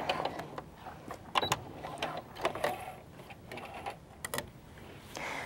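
A sewing machine runs in short bursts, back stitching a fabric strip along a welt pocket on a garment, its quick mechanical ticking and whirring close and clear.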